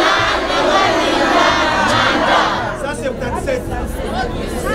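A jubilant crowd at an election rally cheering and shouting loudly in a dense mass of voices that eases off midway while chatter continues.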